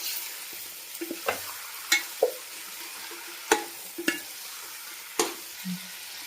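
Chicken pieces for pulao being stirred in a hot pan, with a soft steady sizzle broken by several sharp scraping clacks of the spoon spread through the clip, close and clear, with no talking.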